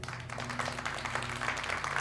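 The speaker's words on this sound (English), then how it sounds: "the audience started clapping." Audience clapping heard in a played recording, a dense continuous patter of applause at moderate level with a low background hum, brief and without pauses.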